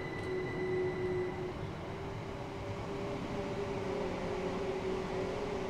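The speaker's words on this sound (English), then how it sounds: "Love the AI trains passing by." AI trains pass by in Train Sim World 2020 on the East Coastway route. A steady, loud rail rumble carries a sustained metallic whine throughout, with no speech.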